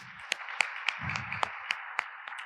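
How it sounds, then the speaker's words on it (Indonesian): Church congregation at a Sunday worship service clapping in praise, a steady rhythmic beat of roughly even claps carried over sustained music, moderately quiet and somewhat distant. "Kalau Anda diberkati tepuk tangan buat Tuhan"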